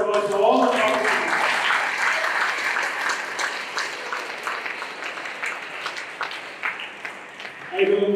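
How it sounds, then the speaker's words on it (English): An audience at a school talent fiesta gives sustained applause for the participants, dense clapping that gradually thins out, with a voice heard briefly at the start and end. "give a big round of applause to all the participants"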